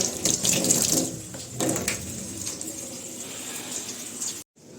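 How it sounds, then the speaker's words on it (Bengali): Hands are washed under a running tap, a steady close splash of water with small shifts as the hands move, ending abruptly when the flow stops, with faint birdsong behind. "হোক ততক্ষণ হাতটা ধুয়ে নিই।"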